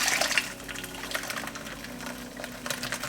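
Tree nut milk being poured through cheesecloth, a steady liquid pour with splashy trickling that continues for about three seconds, close and moderately loud, with no talking.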